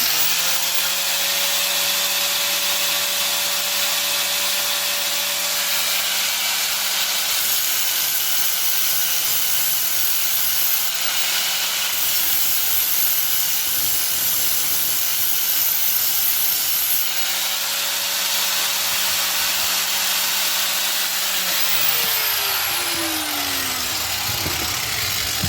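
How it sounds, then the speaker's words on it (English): An angle grinder grinds paint off a metal bike rack built from a bed platform, a steady loud whine running almost continuously with brief pitch dips and a short break near the end. "realized I forgot to grind the paint off"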